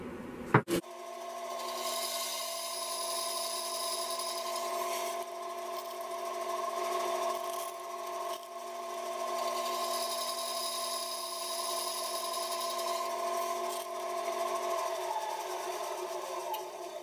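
A saw blade cuts slowly through a segmented spectraply plywood turning blank, giving a steady, sustained whine with a rasping edge that holds for the whole stretch after a sharp knock at the start, with no voices.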